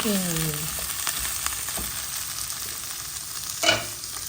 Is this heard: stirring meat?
yes